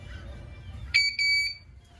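A boat's alarm panel test, fire or high water alarm, beeps loudly in two short bursts over low background rumble, a shrill, high-pitched electronic tone, aboard a Mikelson 43-foot boat.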